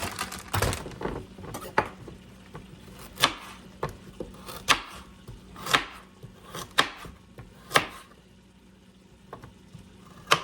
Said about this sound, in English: I want to chop up a couple carrots